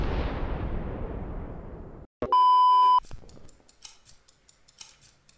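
A bomb in the video game Lethal Company gives a single sustained electronic beep lasting about a second, preceded by a fading rumble and a sharp click, then followed by scattered faint ticks and clicks.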